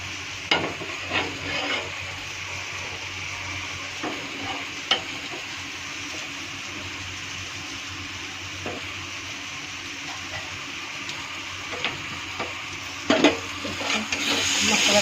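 Egg and masala fry in a pan, giving a steady sizzle for the whole time while a spoon stirs and scrapes, with scattered clicks and knocks and no talk.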